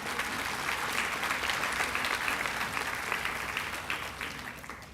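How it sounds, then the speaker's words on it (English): A large graduation audience at a Vigo County, Indiana virtual academy ceremony breaks into steady, dense applause after a student's speech, sustained throughout and tapering slightly toward the end. "let's give Erin a round of applause for her speech"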